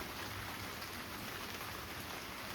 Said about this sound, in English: I hear the rain.